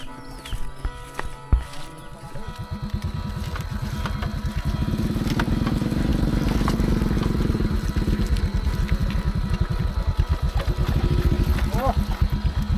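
A motorcycle engine runs on a road out of a village in Laos. Its low, steady chugging starts a few seconds in and continues loud and close to the end, over some earlier background rustle.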